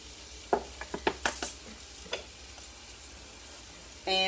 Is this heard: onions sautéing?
yes